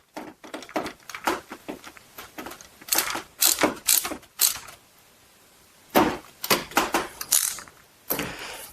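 Screw being tightened down while installing a Whirlpool/Maytag KitchenAid KDTM604KPS dishwasher, heard as bursts of close ratcheting and mechanical clicking with brief pauses between turns.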